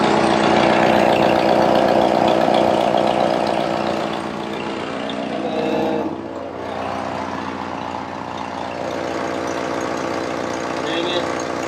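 A Jeep TJ engine fitted with new 4-hole fuel injectors runs at a loud, steady idle, its low rumble easing slightly partway through and then holding on.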